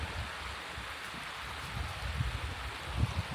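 Stream water trickling steadily near its mouth in quiet countryside en route to Scotland, a soft continuous wash with faint low splashes and no voices.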